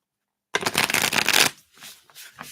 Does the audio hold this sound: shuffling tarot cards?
yes